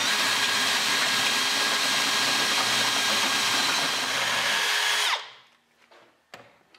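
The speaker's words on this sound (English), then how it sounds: "1/4 inch pilot hole. Use the step reamer. Go up 3 steps. Now we have a 7/16 hole." Power drill turning a step reamer to enlarge a 1/4 inch pilot hole up to 7/16 inch, a steady loud whirring whine for about five seconds that stops abruptly, followed by faint handling clicks.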